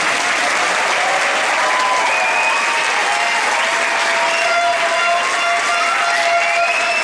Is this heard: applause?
yes